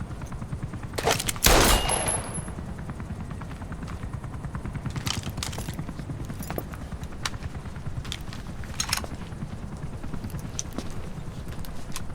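Automatic gunfire in Metal Gear Solid 5, with a loud burst of rapid shots near the start followed by scattered single shots and short rattling bursts over a constant, rumbling in-game background.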